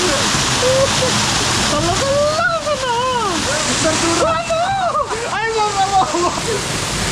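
A cold waterfall in Araku roars as a loud, continuous rushing of water, heard close, while people talk over it for most of the time.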